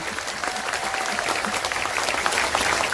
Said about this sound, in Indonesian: Kurang kenceng tepuk tangan.